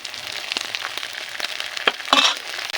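Spice paste of cumin and mustard paste sizzling in a small amount of oil with onion, garlic and ginger, a close crackling fry with scraping stirs and a sharper burst near the end.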